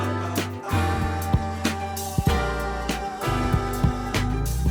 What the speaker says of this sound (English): I came across this record called Afro Boogaloo Twist, which I hadn't heard before, and it sounds like this.